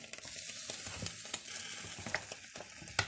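Waffle batter sizzles and crackles steadily inside a hot waffle iron, a continuous frying hiss dotted with small pops, heard alone with no voices.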